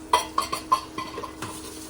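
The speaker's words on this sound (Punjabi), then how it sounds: "ਇਧਰ ਲਸਣ ਵਗੈਰਾ ਅਦਰਕ ਵਗੈਰਾ ਭੁੱਜ ਰਿਹਾ ਹੈ" Garlic and ginger fry in a pan while a utensil stirs and scrapes, giving several sharp metallic taps over a soft, steady sizzle, close and fairly quiet.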